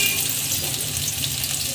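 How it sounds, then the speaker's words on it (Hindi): Cumin and onion frying in hot oil, a loud, dense, continuous sizzle heard up close, with no speech. "प्याज को हल्का गोल्डन होने तक भूनेंगे।"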